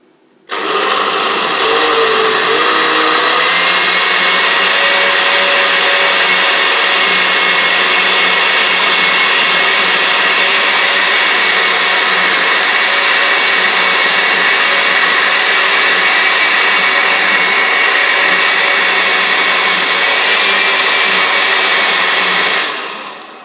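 A kitchen blender whirs loudly as it purees beetroot and carrot for juice, starting abruptly and holding a steady high-pitched motor whine for about twenty seconds before cutting off, close and alone.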